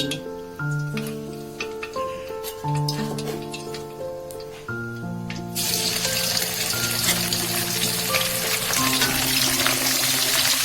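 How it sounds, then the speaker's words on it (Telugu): Chicken pieces dropped into hot oil on a medium flame, as for a chicken pickle, set up a loud, steady crackling sizzle that swells abruptly midway and keeps going, with some tonal music playing underneath. "ఇలా ఆయిల్ కాగిన తర్వాత మనం మీడియం ఫ్లేమ్లోకి పెట్టేసుకుని చికెన్ వేసేద్దాం"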